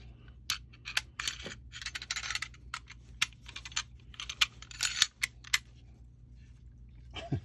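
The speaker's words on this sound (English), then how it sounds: "on the release, it's got a pretty good click, right?" A World War II German Fallschirmjäger paratrooper gravity knife is worked at its release, giving a series of sharp, close metallic clicks and snaps in irregular bursts over a quiet background hum.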